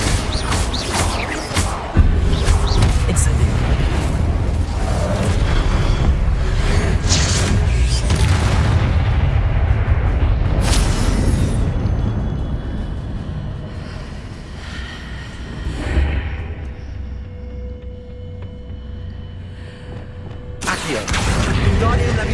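An Incendio fire blast erupts during Hogwarts Legacy spell combat: a heavy, roaring whoosh of flame and rumbling booms that swell and fade over many seconds, with a fresh loud burst near the end.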